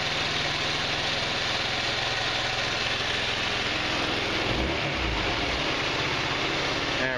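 An Eagle Craft Verano 150 scooter engine idles with a steady, close, buzzy putter and a low vibrating thrum that wavers briefly near the end as the rear wheel begins to spin.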